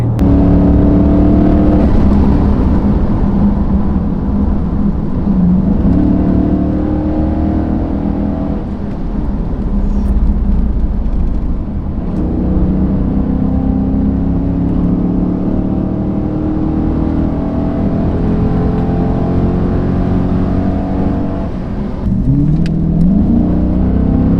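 A Dodge Challenger SRT8 engine revs and pulls under throttle from inside the car, loud and close, with rising and falling gear sweeps over a steady rumble and no talking.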